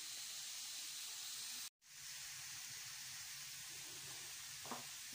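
Button mushrooms fry in a pan with garlic, salt and black pepper, giving a steady close sizzle and hiss broken by one brief dropout near the start, then continuing evenly with a small clink near the end.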